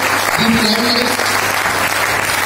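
Loud, close applause from a seminar audience in Jind, a thick continuous wash of clapping with a brief voice early on.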